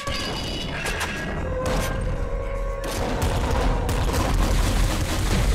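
Rapid bursts of auto flame shotgun fire from the video game Nuclear Throne crackle and boom continuously, dense and loud with overlapping blasts and mechanical clatter.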